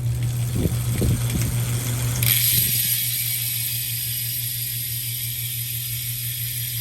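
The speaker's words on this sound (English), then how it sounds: "I'm gonna do a FREEHUB body sound test on these Drive 50D wheels" Rapid mechanical ticking of a bicycle freehub on Drive 50D wheels clicks over a low hum, then fades into a steady whir with a fine buzzing clatter as the wheel coasts.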